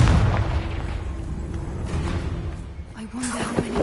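A Confringo fire spell blasts in Hogwarts Legacy, with a loud booming burst at the start followed by a rumbling tail and a second softer crackling hit near the end.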